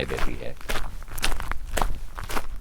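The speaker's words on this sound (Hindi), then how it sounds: "केबिन के बाहर से किसी के चलने की आवाज सुनाई" Several footsteps crunch at an uneven pace nearby, with a voice speaking over them.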